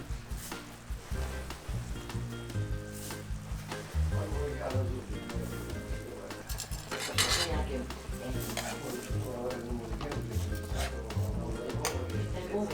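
Dried fregula pasta is stirred in mussel juice in a pan, like a risotto, with repeated scraping and clinking of a utensil against the pan over a light sizzle and a voice talking in the background.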